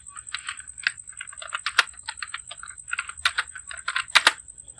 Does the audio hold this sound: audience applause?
no